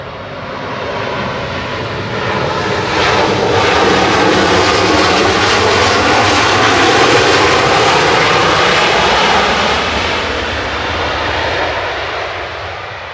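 A Ryanair Boeing 737-800 jet, operated by Malta Air, comes in to land at Manchester Airport. Its loud, steady engine roar swells over several seconds, holds, then slowly eases off.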